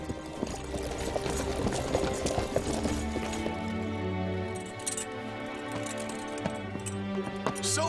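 Horses' hooves clip-clop steadily for several seconds as mounted soldiers move in a historical battle scene from a Chinese drama. The sound is continuous, moderately loud and has no talking over it.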